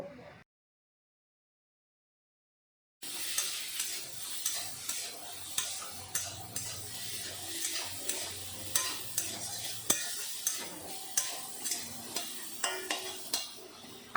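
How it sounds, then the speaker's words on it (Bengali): Fish fries in oil seasoned with salt and turmeric, a soft sizzle under regular scraping stir strokes that repeat roughly every half second after a short silent gap. "ভাজার সময় সামান্য একটু লবণ দেবো আর একটু হলুদের গুঁড়ো দেবো দিয়ে ভেজে নেব"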